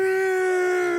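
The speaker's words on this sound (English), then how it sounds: "That's the dog I'm talking about." A dog howls in one sustained, steady wail that fills the whole moment, loud and close, with no talking over it.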